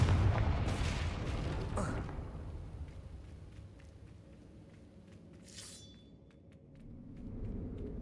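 A Confringo fire-blast spell in Hogwarts Legacy bursts with a loud, heavy explosive boom and crackling debris that fades into a rumbling tail, with a brief shattering rise before a faint swell of game ambience.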